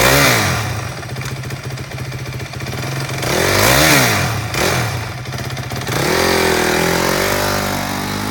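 A used 2015 Honda CRF250X adult trail bike fires up on electric start and idles, its steady engine note rising in a few loud revs before settling, close and alone.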